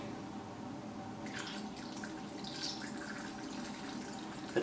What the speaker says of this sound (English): Here we'll pour the developer into the tank.